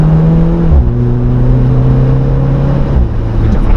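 An Alfa Romeo Giulia Quadrifoglio accelerates on a test track with a loud, sustained engine drone heard from inside the car. The pitch holds steady and then shifts slightly lower as the car pulls through the corner.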